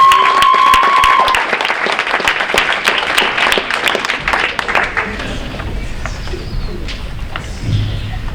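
Crowd applause and cheering at a winter varsity sports awards ceremony: dense, loud clapping with whoops that fades gradually toward the end, leaving scattered claps and room noise.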